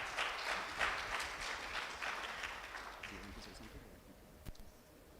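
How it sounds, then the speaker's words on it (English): Youth Startup Academy entrepreneurs receive a round of applause from an audience at a closing ceremony: dense, fairly distant clapping that gradually thins and fades. "I would like a big round of applause for all of you"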